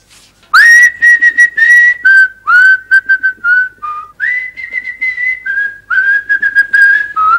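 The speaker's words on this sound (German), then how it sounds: "kannst du nicht mal was anders pfeifen?" A person whistles a lively tune alone, loud and close, with many short clear notes and phrases flowing steadily throughout.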